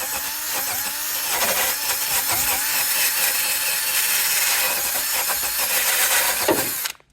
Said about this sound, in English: a lot of this sealant has clearly trapped some moisture, caused some issues, so I'll give that a quick wire wheel.